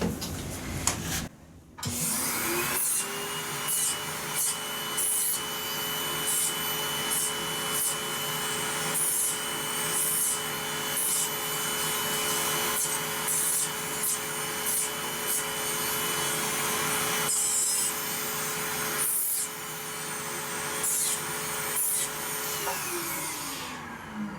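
An electric sanding tool grinding down calluses on feet gives a steady whirring hum with rubbing, scraping bursts over roughly twenty seconds. A brief pause comes early, and the hum winds down near the end.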